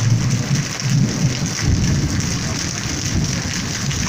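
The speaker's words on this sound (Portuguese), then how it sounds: "Olha o trovão." Heavy rain pours steadily during a loaded, overcast storm in Serra Talhada, Pernambuco, with low rumbling thunder rolling under the downpour through the first half, all fairly loud and close with no talk.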